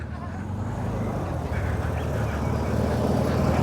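Air-cooled yellow Volkswagen Beetle engine idling nearby, a low, steady, throbbing rumble with a rapid irregular puttering texture, loud and continuous.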